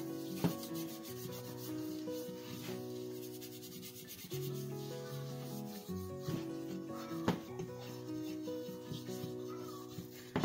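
Avocado oil is rubbed by hand onto a warm cast iron pan, producing a soft, continuous scraping rub over the whole stretch, with light music playing underneath.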